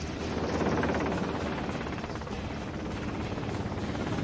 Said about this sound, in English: to fight against this helicopter, they needed some ammunition